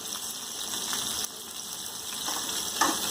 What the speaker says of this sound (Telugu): అన్నీ వేసుకొని బాగా ఫ్రై చేసుకోవాలి.